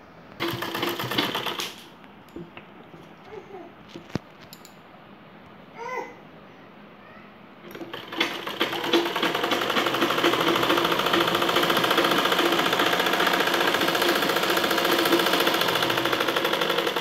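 A sewing machine stitches a baby frock made from waste cloth, starting with a short burst and then some quiet handling and faint squeaks before a loud, steady run of stitching that continues to the end.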